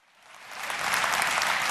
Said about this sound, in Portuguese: Vamos, aplauda para adorar ao Senhor